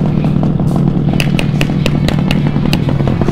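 A modified motorcycle engine revs loudly up close with a rough, throbbing idle, broken by a series of sharp crackling backfire pops clustered in the second half, no voices.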